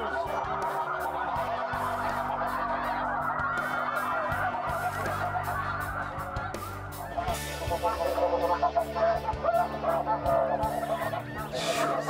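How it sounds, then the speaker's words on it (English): A dense chorus of many snow geese honking together, loud and continuous, broadcast from speakers with flapping fans, the calling swelling even fuller toward the end. "Broadcasting snow geese sounds and flapping fans"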